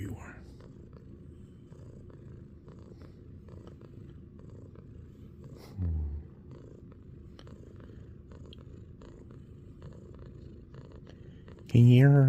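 A pet cat purrs steadily and close by in a quiet room, a soft continuous rumble running throughout, with a voice briefly breaking in near the end.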